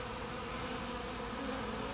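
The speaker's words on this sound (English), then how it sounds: "I just homed these bees from that apartment" Dense, steady buzzing of many honey bees swarming close by, a continuous droning hum with no voices.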